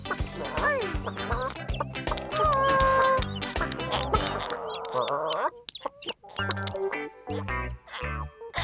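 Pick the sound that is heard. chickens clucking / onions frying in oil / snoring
chickens clucking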